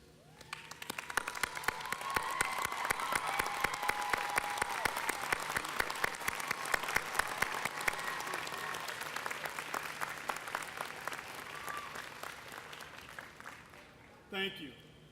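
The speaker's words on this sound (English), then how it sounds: "join me in applauding the families and friends who have supported our graduates in achieving their goals" A commencement crowd at a Western New York graduation applauds families and friends, with sustained, even clapping from many hands lasting well over ten seconds before dying away, then a brief voice at the end.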